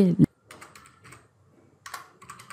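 Keys clack on a computer keyboard in short bursts of quick taps with brief pauses between them, close and fairly quiet, right after a short spoken sound at the start.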